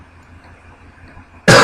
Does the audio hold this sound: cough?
yes